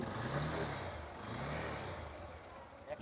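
An Apache RTR motorcycle engine revs in a steady, rumbling drone that swells and eases slightly over three seconds, close by and moderately loud.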